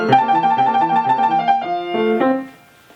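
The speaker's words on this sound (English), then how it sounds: "One hand is trilling very fast" Solo piano playing Mozart's Sonata K. 570: a rapid right-hand trill over a running 16th-note Alberti bass in the left hand, close and clear, changing harmony partway through before fading out.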